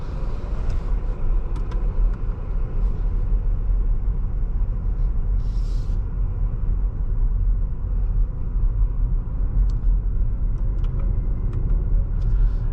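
Inside a 2026 Lucid Air Touring pulling away on air suspension: a steady low road rumble and faint drivetrain hum fill the cabin evenly, with a few light ticks and clicks on top and no voices.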